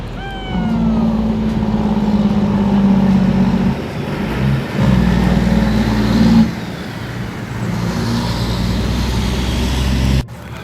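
Vehicles hauling a trailer along a highway into town give a loud, rumbling engine drone that swells and dips as they approach and pass close by, with low-frequency road noise throughout.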